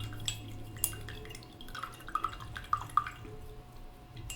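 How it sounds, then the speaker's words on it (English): Paintbrush swished and tapped in a water cup, a few small clinks and drips scattered over a quiet background hum, close and faint. "I'm going to wash my brush"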